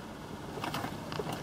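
A 2016 Ford Explorer Police 4WD engine running after starting, a steady broadband drone with a few brief louder surges, heard close and alone with no talk.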